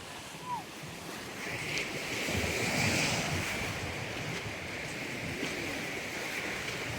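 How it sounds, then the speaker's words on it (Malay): Strong sea waves at Gold Coast Morib beach, a broad rushing surf wash rising and fading under heavy wind buffeting on the microphone, a steady outdoor roar. "Ombak dia agak kuat."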